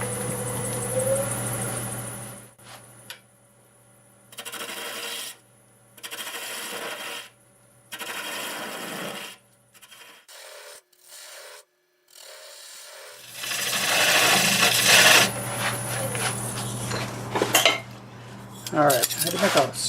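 A half-inch bowl gouge cuts apple wood spinning on a lathe at about 800 RPM, producing intermittent scraping bursts separated by quiet gaps, with a steady motor hum beneath and a louder rough stretch near the end.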